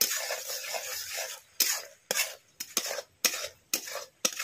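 Almonds are stirred in sugar syrup in a pan, with a bubbling sizzle at first, then a series of close, sharp scraping strokes of a utensil about every half second.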